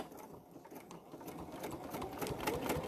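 A sewing machine stitches binding onto a quilt, its quick mechanical rattle running steadily throughout, quiet and close with no voices.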